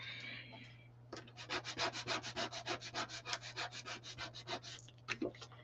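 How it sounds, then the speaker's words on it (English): Burnishing an etching stencil down onto glass, a quick series of about twenty rhythmic rubbing strokes close up, each a short scratchy swish. "I'm just finding something to scratch them with, or to burnish them down."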